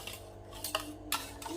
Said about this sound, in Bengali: তো দইটা আমি ফেটিয়ে নিচ্ছি